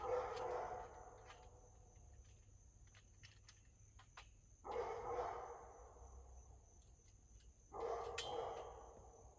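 Dogs bark in a few bursts at a distance, over a steady chorus of crickets and insects in the background.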